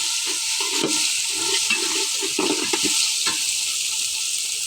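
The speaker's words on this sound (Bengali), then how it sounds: "তো আদা রসুন বাটা দিয়ে দিচ্ছি। এভাবে এখন কিছুক্ষণ ভালো করে ভাজে নেব।" Ginger garlic paste frying with onions in a pan, a continuous bright sizzle with scraping stir strokes and clinks at irregular moments, close and steady, with no talking.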